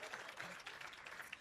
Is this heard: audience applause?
yes